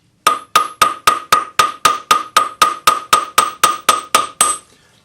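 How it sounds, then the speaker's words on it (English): Planishing hammer striking a small wire chain loop on a steel bench block: about fifteen bright metallic taps in a steady even rhythm, close and loud, each with a short ringing decay. "we're using the rounded part of our planishing hammer on our little bench block."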